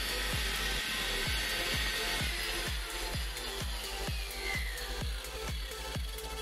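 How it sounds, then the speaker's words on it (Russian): A SHIJING 9510 electric tile cutting system saws through large-format tile, its motor whining steadily with a regular series of rhythmic grinding pulses, loud and close, with no talk. "Пилит идеально, хоть и плитка проблемная."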